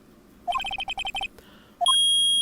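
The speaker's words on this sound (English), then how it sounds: "Beep." An electronic recording in the Phoenix Wright: Ace Attorney video game gives off a quick run of rapid high beeps, then a pause, then a short rising chirp into a sustained steady tone.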